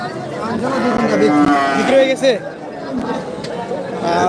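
Cross Friesian calves and cattle low amid a busy weekly livestock market in Kaharol, Dinajpur, with people talking nearby and crowd chatter all around.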